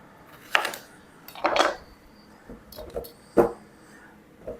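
A knife cuts through homegrown pumpkins, chopping them into chunks for roasting in a pan, making several separate crisp thunks and scrapes against a board with short pauses between the cuts.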